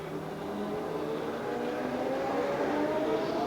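A racing sidecar outfit at the FIM Sidecar World Championship at the Lausitzring circuit in 2001 gives a sustained, fairly distant engine drone. The sound swells gradually as the machine approaches and passes.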